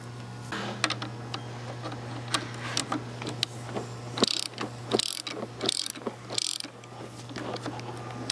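Spring compressor being tightened evenly on a car strut during a strut mount replacement, with repeated close ratcheting clicks and some heavier metallic clunks over a low steady hum.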